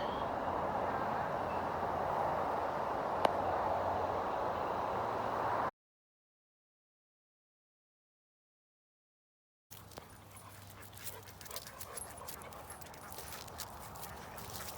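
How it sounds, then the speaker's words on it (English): Ducks call in a dark garden at night alongside running sprinklers, with steady broadband hiss throughout, a silent gap in the middle, then softer scattered quacks and water noise. "The ducks are happy to see me. They came running over."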